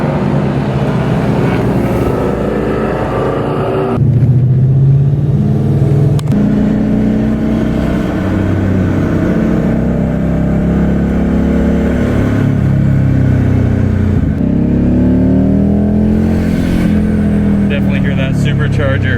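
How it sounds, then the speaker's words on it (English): A supercharged Lexus IS F running an RR Racing supercharger drives on the track at Apex MotorClub in Arizona, its engine droning loud and steady from inside the cabin and rising and falling with the throttle while someone talks over it. "And this is the RR Racing Supercharger."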